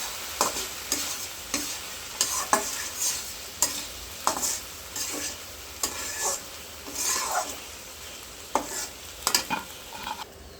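Okra (bhindi bhaji) frying in a pan, a steady low sizzle broken by repeated scraping stirs of a spatula every second or so, close and clear.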